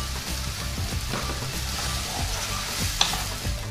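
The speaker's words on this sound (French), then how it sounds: "Je vais faire cuire sur feu moyen pendant 3-4 minutes." Chicken sizzling over medium heat in a pan for poulet handi, with a steady fry and soft stirring scrapes, plus a sharp utensil clink near the end.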